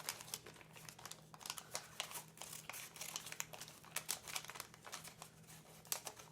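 Scissors snip and crinkle through paper in quick irregular cuts, close and quiet, as an oval shape is cut out, with no talking.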